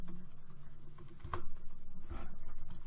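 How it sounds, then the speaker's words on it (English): Typing on a computer keyboard, quiet rapid key clicks in an irregular patter with a couple of louder strikes, over a faint steady hum. "you need to type in SKSE"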